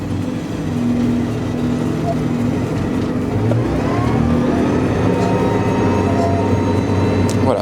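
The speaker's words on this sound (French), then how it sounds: "mon semoir est en fonctionnement" A steady, droning tractor engine running continuously nearby, with the mechanical whirring of a tractor-drawn seed drill in operation layered over the low rumble.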